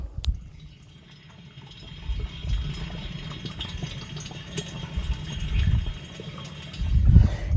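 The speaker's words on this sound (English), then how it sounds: "you can hear that the water is coming out of the water hose into the tire" Low gurgling rush of water pouring from a hose into a tractor tire, heard up close over a steady low hum, swelling louder toward the end.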